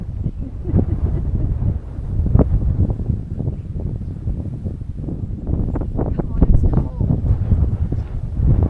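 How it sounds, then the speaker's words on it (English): Wind blowing outdoors near the Mary Kathleen mine, a steady low rumbling buffet against the microphone with gusty swells throughout. "it's cold because the wind's coming up"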